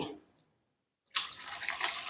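Water pours steadily into a cooker pot after a brief quiet moment, a bright rushing splash that continues to the end, fairly close.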